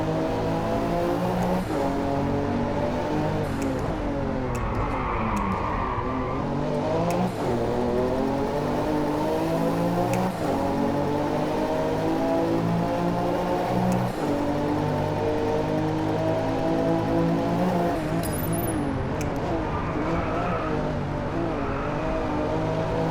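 Race car engine in DriveClub on PS4, played with a Thrustmaster T300 RS wheel: a loud, continuous roar with repeated rising and falling revs through gear changes, steady and close throughout with no talk.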